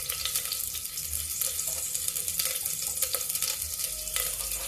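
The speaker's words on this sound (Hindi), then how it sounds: "अब तेल में हम डाल देते हैं, देखिए ये मेथी है" Fenugreek seeds frying in hot oil in a pan for a pumpkin curry, a steady, dense sizzle and crackle with no one talking.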